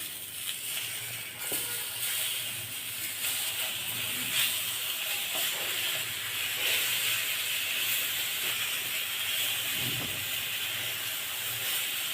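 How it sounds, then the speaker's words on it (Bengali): Eggplant pieces fry in oil over medium heat while they are turned, giving a dense, even sizzling hiss from start to finish, close and fairly loud, with occasional light clinks. "চুলার আঁচ মাঝারিতে রেখে বেগুনগুলি উল্টে পাল্টে ভেজে নিব।"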